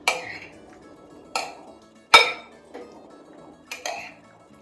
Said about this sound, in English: And you want to gently toss it.